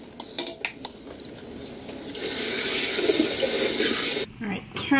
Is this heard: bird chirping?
no